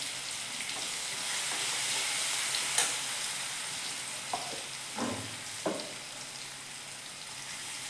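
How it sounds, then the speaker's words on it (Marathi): Garlic and green chili paste sautéing in a pan, a steady close sizzle and fry hiss with a few faint clinks of stirring, no talking. "बघा लसूण आपला व्यवस्थित परततो।"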